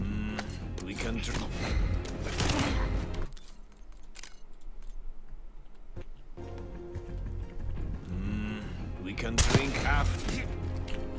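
Gunfire in the video game Black Ops 6: sharp bursts of shots near the start and again later, separated by a quieter stretch of ambient game noise, with a voice talking over parts of it.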